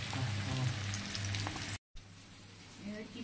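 Flour-coated chicken frying in hot oil for a home chicken fry, a dense crackling sizzle broken by a brief dropout, then continuing more quietly with a low hum underneath.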